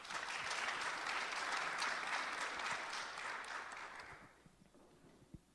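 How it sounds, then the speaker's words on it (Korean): Audience applause at a policy forum welcoming a speaker, a dense burst of clapping that fades away over the last seconds, leaving a few scattered claps and room noise. "박수로 맞아주시기 바랍니다"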